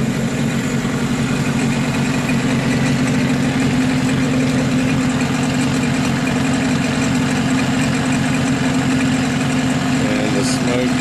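A small pull-start engine runs at a steady idle, loud and close, with a continuous low rumble and no breaks; it is putting out heavy white-gray smoke and was started without the choke.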